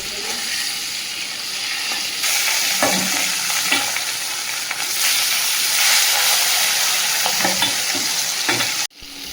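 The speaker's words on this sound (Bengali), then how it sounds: "আমি এদিকে মাছটা ভাজা চাপিয়ে দিয়েছি" Fish frying in a pan: a loud, close, continuous hissing sizzle that swells midway, with a few spatula knocks, then cuts off abruptly near the end, no voices.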